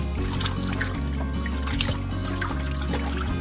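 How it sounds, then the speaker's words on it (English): Raw beef being rinsed under running water, a continuous close trickle and splash with low rumbling tones underneath and no talk. "So you want to rinse the meat real good"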